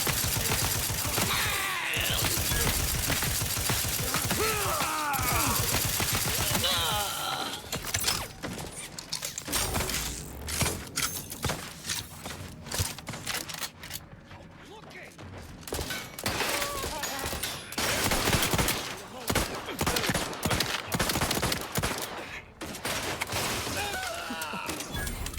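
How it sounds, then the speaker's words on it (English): Assault rifle fire in The Outer Worlds 2 crackles in loud rapid bursts among crashes and mechanical clatter, with voices talking in between. "Got an assault rifle. Take that."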